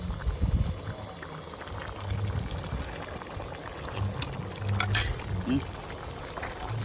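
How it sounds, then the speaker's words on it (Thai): A pot of chicken curry with pickled bamboo shoots simmers at a low steady bubble, with soft gurgling and occasional louder pops near the end, close and continuous. "รอมันเดือด"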